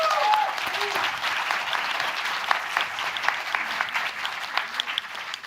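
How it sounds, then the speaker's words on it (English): Audience applause at a happiness summit, a sustained, dense clapping that stays loud and even throughout. "Applause."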